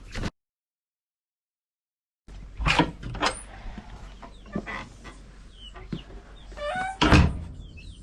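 Puerto Rican chickens come out through the coop door into the run, with close clucks and squawks, a few scuffs and knocks, and a sharp loud burst near the end after a short silence.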